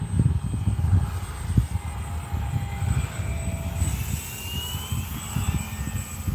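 An Arrows Husky RC plane in flight, with a steady, fairly distant motor drone that stays even throughout over outdoor wind noise.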